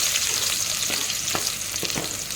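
Moong dal crackles and hisses as it fries in hot oil in a pan, a continuous close sizzle broken by a few sharp stirring scrapes, with no talking.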